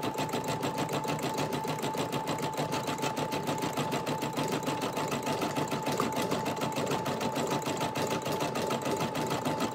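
Brother SE 400 embroidery machine stitching a 4x4 design, a loud, fast, steady mechanical chatter with an even rhythm throughout and no talk.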